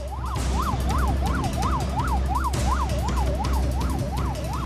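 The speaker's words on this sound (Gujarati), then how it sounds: "જ્યાં જુઓ ત્યાં એમ્બ્યુલન્સના ટફેરા" An ambulance siren wails through the streets of Surat during the COVID crisis, a rapid rising-and-falling yelp repeating steadily over traffic rumble.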